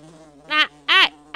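Fly buzzing in the Nightmares from the Deep puzzle game, two short, loud, whining bursts close together over a quiet hum.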